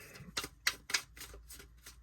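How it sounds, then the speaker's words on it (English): Several crisp riffling bursts of tarot cards being shuffled, about six quick rustles in an uneven rhythm, close and fairly quiet. "One more shuffle."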